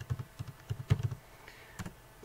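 Typing on a computer keyboard in Microsoft Word: a quick, uneven run of close, soft key clicks, a dozen or so strokes with a brief pause before a last few taps.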